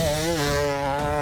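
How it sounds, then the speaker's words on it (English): A 2023 KTM 250 two-stroke motocross bike ripping a hot lap, its high buzzing engine note wavering as the revs rise and dip, loud and close for a brief moment. "Josh Spinks is out there now on his 2023 KTM 250 two-stroke. He's just setting a hot lap"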